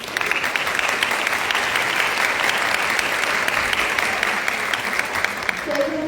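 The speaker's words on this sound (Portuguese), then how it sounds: "uma salva de palmas para nossos palestrantes" An audience applauds the speakers at a psychology talk on the rights of people with disabilities, with even, sustained clapping from a crowd filling the room at a steady level throughout.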